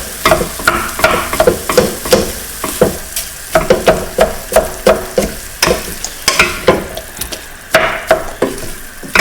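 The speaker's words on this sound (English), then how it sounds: "And now I'm going to add the beef." Lean ground beef mince frying in a pan on low heat, a steady sizzle broken by rhythmic scraping and stirring strokes of a utensil, close and fairly loud.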